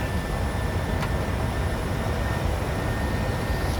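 Steady, loud broadband roar of PMDG 737-700 jet engines spooled up to go-around thrust in Microsoft Flight Simulator, a continuous dense rumble without breaks, a thin high whine running through it.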